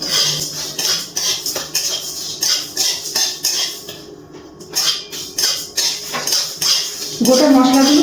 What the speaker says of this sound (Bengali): গ্যাসের ফ্লেমটা মিডিয়ামে রেখে শুকনো খোলায় সব কিছু ভেজে নিচ্ছি